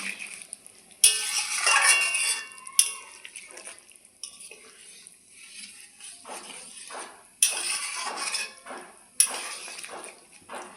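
A spoon stirs potato and egg curry with garam masala in a pot, scraping and clinking in short bursts between quieter gaps, close and fairly soft with no talk.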